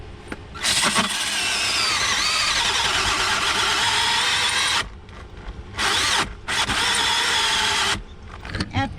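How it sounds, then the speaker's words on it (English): Power drill boring a pilot hole with a metal bit into a box during a diesel air heater install in a short bus conversion, loud sustained whine in long bursts with brief pauses between, close by. "After going back to the hardware store for a good metal bit that's a pilot bit for these things, I now have a hole"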